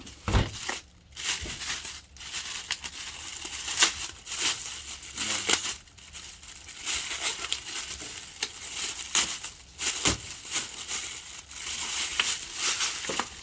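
A 12V 100Ah LiFePO4 lithium deep-cycle battery is unpacked from its packaging, with repeated close crinkling, crushing and tearing of wrapping material in irregular bursts and brief pauses between handling.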